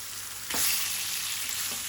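Tilapia fish fillet frying in a pan after being dredged in flour, a continuous bright sizzle that swells suddenly as the fish is turned, then keeps hissing steadily up close with no talking.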